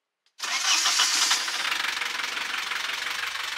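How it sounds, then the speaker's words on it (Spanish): A sailboat's engine is cranked back to life after running out of fuel, catching with a loud burst and settling into a steady, slightly uneven rumbling run close by. "vamos a darle arranque de vuelta"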